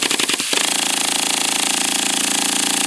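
A small sand-cast home-built steam engine with a 3/8 inch bore runs wide open. Slower uneven chuffs quickly settle into a loud, rapid, steady buzzing beat, close up.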